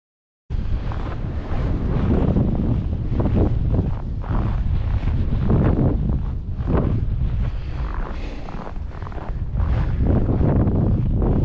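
Strong wind buffets the microphone on an exposed mountain summit, a loud continuous roar and rumble with gusty surges throughout.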